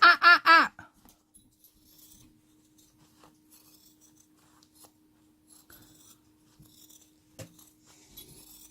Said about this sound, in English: dog's gonna stop barking